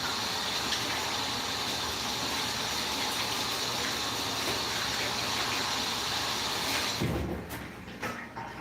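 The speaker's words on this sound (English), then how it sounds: "I'm going to do a rinse and a wash-a-rooney in my hands." Hands rinsed and washed under running kitchen tap water, a loud steady gush close by that stops abruptly near the end, leaving faint drips and handling sounds.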